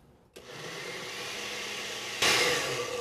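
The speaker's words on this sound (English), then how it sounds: "I'm just gonna blend it again for about 30 seconds just to make sure everything's completely incorporated" A blender whirs steadily while mixing lemon curd with butter, kicking on abruptly and then jumping to a louder, higher speed near the end, close and continuous.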